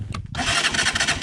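A motorcycle in the mountains of the Sierra Nevada de Santa Marta, Colombia, its carburetor just recalibrated for altitude, cranks briefly and then catches, settling into a loud, steady idle close by.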